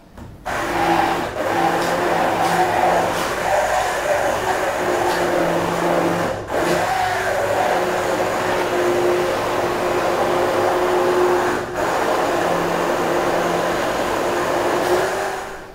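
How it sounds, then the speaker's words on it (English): A blender whirs close and loud, blending coconut milk lentil soup for a vegan spicy dal, its steady motor drone briefly cut off twice before carrying on; no talking. "what I'm gonna do is I'm gonna get in with my machine and give that a little blend."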